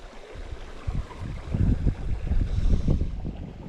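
Gusty wind buffets outdoors by a trout stream in the Driftless, rising and falling in loud rumbling bursts that sweep across the microphone for several seconds.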